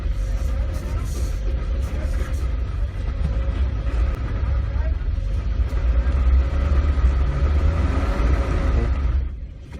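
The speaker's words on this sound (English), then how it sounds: "Tires are digging in and spinning." A 2018 Jeep Wrangler works hard off-road as its tires dig in and spin, producing a loud, continuous low engine rumble and churning roar that holds steady for several seconds before dropping away abruptly at the end.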